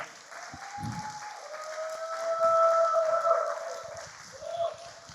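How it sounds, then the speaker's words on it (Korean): A church congregation at Houston New Life Church breaks into sustained, moderately loud applause that swells toward the middle and tapers off, with steady tones from a keyboard or organ running underneath. "박수 한번 주십시오. 네, 격려의 박수."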